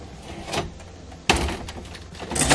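A 1987 Coleman Sun Valley pop-up camper top slides over its door during takedown: a soft scrape and rumble, then a sharp close knock, with more sliding and rattling near the end.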